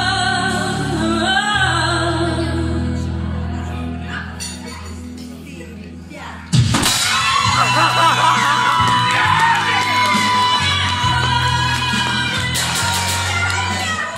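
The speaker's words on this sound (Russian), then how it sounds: "А пусть громкость криков болельщиков определит победителя." Wedding crowd of fans shouting and cheering loudly, a sustained mass of yells and whoops that surges abruptly louder midway, with music underneath.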